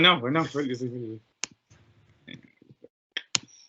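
A computer mouse clicks a few times, sharp isolated clicks spaced irregularly after a voice speaks briefly at the start, then quiet stretches between faint clicks.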